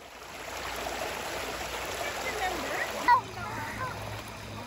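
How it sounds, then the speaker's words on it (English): A river flowing at a car-camping site, a steady broad rush of moving water heard close and continuous, with one brief splash near the end. "just listening to the soothing sound of the water"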